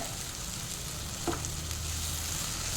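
Chilli powder and turmeric fry in hot oil in a pan for egg chilli, giving a continuous close sizzle with a brief scrape of stirring partway through and no talk.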